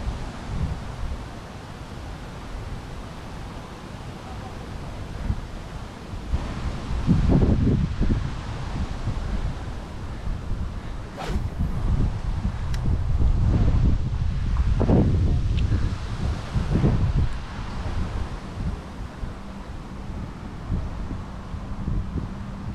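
Wind gusting across an open reservoir shore, a steady low rumble of buffeting against the microphone that swells in louder bursts midway, with no voices.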